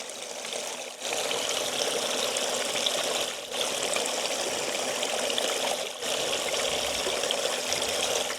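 Water flows steadily down a gold sluice fitted with a new mat, a continuous close rushing trickle with two or three brief dips in flow.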